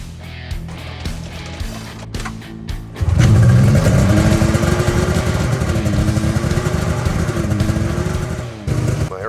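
A Ski-Doo Matryx Boost snowmobile engine cranks briefly, then catches at about three seconds and runs loud and steady nearby at high idle, its revs settling slightly, before a short dip near the end.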